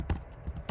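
Soft, quick keystrokes on a computer keyboard, a few taps spread across a brief moment, close and fairly quiet.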